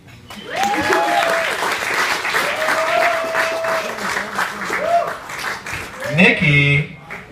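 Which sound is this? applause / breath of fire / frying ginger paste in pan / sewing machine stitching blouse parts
applause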